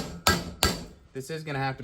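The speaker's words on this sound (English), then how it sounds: "So you can sort of hammer her home." A hammer drives a bearing race into a Volkswagen Vanagon: two sharp metallic strikes about a third of a second apart, close and loud, followed by a brief spoken voice.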